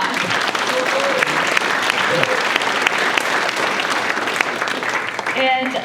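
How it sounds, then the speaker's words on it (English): A steady, dense round of applause from a crowd at a mayoral installation, loud and sustained throughout, with a brief voice rising near the end. "So let's give Mayor Go another round of applause."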